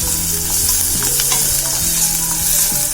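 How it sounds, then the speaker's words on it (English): Sweet gourd frying over a full flame, with a steady loud sizzle and stirring scrapes and clinks of a utensil against the pan throughout. "Now I'm gonna put my sweet gourd. I'm cooking this on full flame,"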